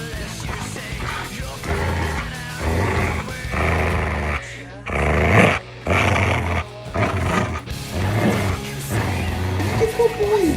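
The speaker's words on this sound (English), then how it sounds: "That's how you wrestle with a Belgian Malinois." A Belgian Malinois wrestles with a person, giving deep growls and grunts in bursts close up, with scuffling and someone talking to the dog in between.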